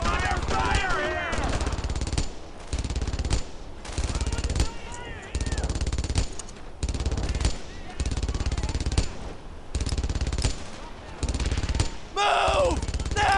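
Battle gunfire in the World War II shooter Brothers in Arms: Earned in Blood during a tank destroyer escort through St Sauveur, with heavy machine-gun bursts in dense repeated volleys under shouting voices.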